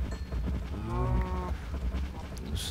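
A cow in Minecraft gives a single drawn-out moo, loud and close, over a low background rumble, with no talking.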